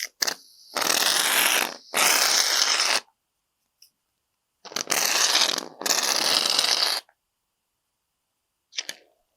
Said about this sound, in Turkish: Düz bir zemin üzerine tıraş köpüğünü sıkıyorum.